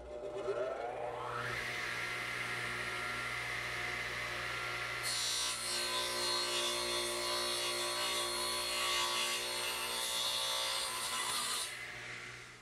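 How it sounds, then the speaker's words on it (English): A radial arm saw cuts through wood backed by plywood, the motor spinning up then biting into the board with a loud, sustained rasping whine before winding down. "So I'll just slide it over and run the saw through."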